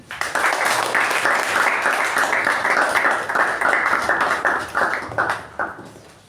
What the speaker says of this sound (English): Please give a huge round of applause to Toastmasters Sharanye.